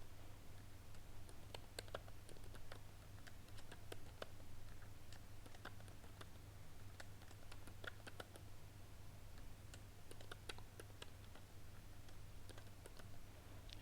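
Typing on a computer keyboard while entering student names into an Excel spreadsheet: steady, light key clicks in quick irregular bursts over a low constant hum, with no talking.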